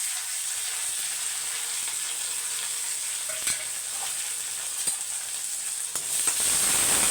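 Onion, garlic, cumin and curry leaves sautéing in a pan, a steady high hissing sizzle with a few sharp pops and stirring scrapes, close and unbroken, growing slightly louder near the end.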